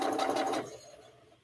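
A sewing machine runs in a fast, buzzing burst for about half a second while stitching a quilt block, then stops, leaving quiet room tone.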